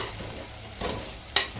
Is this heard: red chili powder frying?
yes